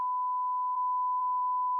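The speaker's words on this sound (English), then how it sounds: "just put the little beep what you do, and cut the whole thing and go bleep" A censor bleep sound effect: one steady, loud pure tone held for nearly two seconds, cut off sharply at the end.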